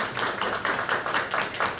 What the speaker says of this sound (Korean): 정말 고생 박수 한번 해주십시오